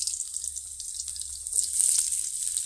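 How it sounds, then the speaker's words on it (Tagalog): Garlic, ginger and onion sautéing in oil in a pan for chicken adobo in coconut milk, a steady soft sizzle with hiss brightening midway, close and continuous with no talk. "At igisa ko na yung aking mga sangkap."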